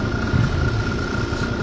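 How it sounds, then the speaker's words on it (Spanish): A motorcycle engine runs at a steady idle, a continuous low rumbling drone with a constant mechanical hum, close and fairly loud with no voices. "Creo que me han grabado con mi moto."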